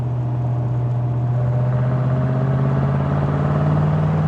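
A Candy Apple Red 1966 Mustang GT convertible with a 4-speed holds a steady, close engine drone whose pitch creeps slowly upward as it drives, with no voices over it.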